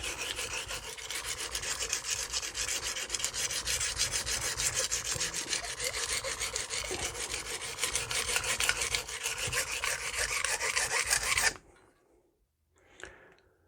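A Magnacut 8-inch chef's knife ground on a coarse oiled Norton Crystolon stone gives a continuous close, gritty rasping with rapid strokes that runs for about eleven seconds. It then stops, leaving a couple of faint light scrapes.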